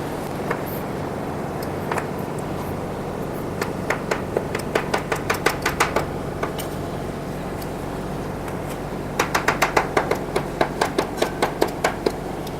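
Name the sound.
knife chopping tempeh into cubes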